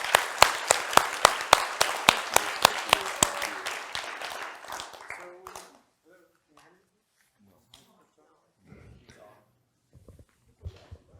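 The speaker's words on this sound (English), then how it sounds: "Phyllis and Juan Pablo, I'm going to ask a big round of applause for them" An audience claps in steady applause for about five seconds at a talk on resource extraction and a green economy, then it fades to quiet with scattered rustles and faint murmurs.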